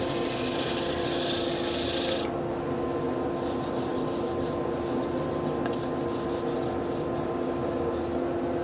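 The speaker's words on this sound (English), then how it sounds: "we'll keep the abrasive moving, pulling along" Hand sanding the rim of a wooden rice bowl with abrasive, a close, soft scratchy rubbing that is steady at first, then turns into a series of short back-and-forth strokes, without talk.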